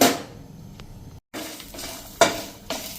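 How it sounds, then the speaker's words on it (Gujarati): Chillies and coriander roasting in a pan over a medium gas flame, with garlic cloves added, give a steady close sizzle broken by a few scraping stirs and light clinks, with a brief gap partway through. "આ રીતે આપણે સ્લો ટુ મીડિયમ ફ્લેમ ઉપર રોસ્ટ કરી લેવાના છે મરચાં અને ધાણા"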